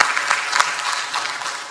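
A church congregation claps for the pastor, a brief burst of dense, even applause filling the room with no talking over it.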